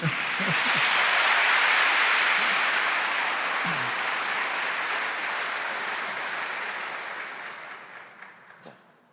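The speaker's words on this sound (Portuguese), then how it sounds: "Um aplauso para Augusto dos Anjos" An audience at a seminar applauds for the poet Augusto dos Anjos, a loud sustained burst of clapping that swells, then gradually thins and fades out over several seconds.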